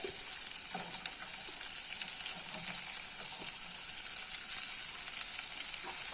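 Chopped onion sautéing in a pan for an onion-capsicum curry makes a continuous, even sizzle with faint occasional stirring scrapes, close and steady throughout with no talking.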